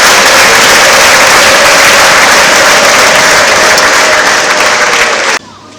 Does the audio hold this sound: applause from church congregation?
yes